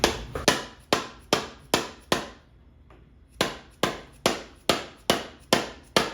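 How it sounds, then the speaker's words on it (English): Close, sharp hammer blows strike metal to pry a stuck part loose on a Prelude, about six evenly spaced hits, a short pause, then six more in the same steady rhythm. "I'm gonna hammer so I can get in there deeper."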